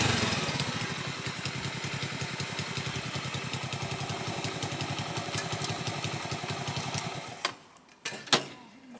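A Honda C90 moped engine runs steadily with a rapid, clattery single-cylinder putter close by, then cuts out near the end, leaving a few sharp knocks and clunks.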